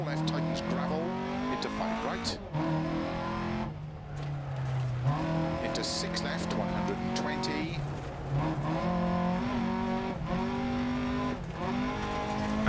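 A rally car in Dirt Rally 2.0 drives hard with a revving engine that rises and falls through gear changes, tyres sliding and skidding on loose surfaces through corners, loud and continuous.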